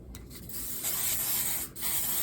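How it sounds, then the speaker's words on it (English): Hairspray hisses from a can onto thin hair in two close bursts, a short one followed by a longer steady spray with a brief gap between. "I'll take my hairspray, any hairspray."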